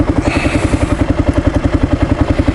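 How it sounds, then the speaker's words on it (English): Kawasaki KLR motorcycle engine while riding, a loud, close, rapid regular thumping pulse of a single-cylinder motor with mechanical clatter, steady throughout the short stretch with no speech. "now I'm on a KLR, and I love the KLR"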